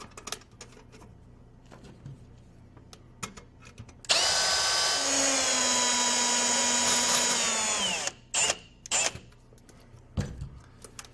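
A power drill drives short 8-32 screws to fasten a white cover plate for a pendant fixture conversion kit against a ceiling, one sustained whirring run of about four seconds between quiet handling clicks and taps.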